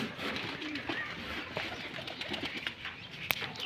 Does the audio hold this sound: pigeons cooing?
yes